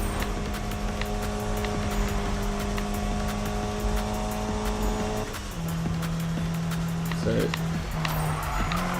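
Car drifting through corners in the Need for Speed racing game on Xbox One, a steady engine drone with tonal whine that drops in pitch midway, continuous and fairly loud, with a player talking over it.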